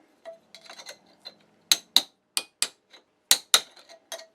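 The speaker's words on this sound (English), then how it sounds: "So now you have to repeat the file thing again." A metal file deburrs freshly drilled holes in parking-brake lever extension pieces for a Toyota 4WD truck, heard as a series of sharp scraping strokes and clinks, some faint and several loud, with short gaps between them.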